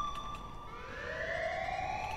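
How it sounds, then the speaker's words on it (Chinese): Loud police siren in the GTA video game, a rising electronic wail sweeping upward over a steady background hum, prominent and continuous with no talk. "这警报声有够大声！"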